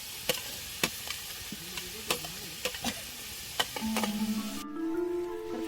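A spoon strikes and scrapes the pan several times before chopped onion drops into spiced masala in hot oil for a dry soybean dish, and a soft sizzle rises, ending in a brief tonal hum.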